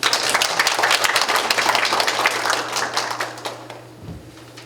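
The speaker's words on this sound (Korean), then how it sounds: "뜨거운 박수로 환영해 주시기 바랍니다" A forum audience applauds to welcome a university professor moderating the session, dense steady clapping filling the room before tapering off near the end.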